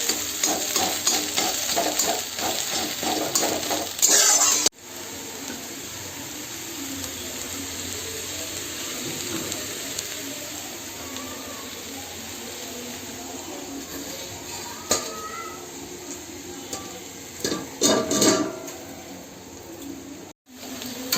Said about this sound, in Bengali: ডিমটা আমার ভাজা হয়ে যাচ্ছে